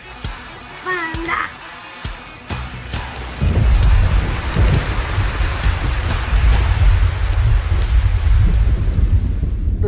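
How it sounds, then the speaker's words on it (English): Thunder rumbles under steady heavy rain at a nature reserve, a continuous low roar of rain and thunder that builds partway through, with faint voices early on. "That's thunder."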